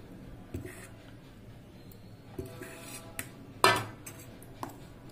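A spoon clinks and scrapes against a bowl as rice paste is mixed into dosa batter for Odia poda pitha, with scattered soft taps and one sharper knock, quiet and close with no talking.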